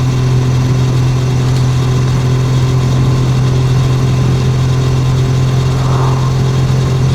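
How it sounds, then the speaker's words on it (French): A 2011 Triumph Bonneville T100 motorcycle engine idling steadily nearby, a constant low throb with an even mechanical hum and no talking. "C'est tout à fait le son qu'on est en droit d'attendre d'une moto anglaise."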